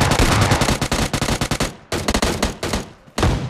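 Close, loud automatic gunfire in the mobile shooter PUBG Mobile Lite, with rapid bursts of shots, a short pause, a second sustained burst, then a brief silence before one more burst.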